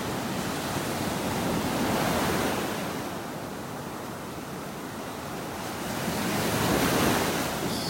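Ocean surf breaks and washes up a beach in North Naples, Florida, a steady roar of foam swelling twice into louder crashes, with light wind and no voices.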